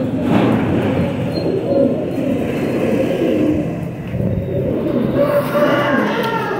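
Rampuri teddy pigeons coo in a steady, murmuring stream, with low overlapping calls at close range against a busy background hum.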